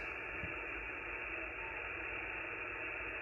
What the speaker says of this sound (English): we have got quite a high noise level coming in from that external antenna